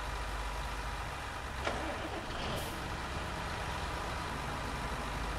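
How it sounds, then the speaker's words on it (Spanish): A tractor engine rumbles steadily as it is moved across a cotton field during harvest, a continuous low drone with a brief clank partway through and no speech. "ya dejamos aquí atravesado el tractor. A ver, déjenme quitarlo aquí"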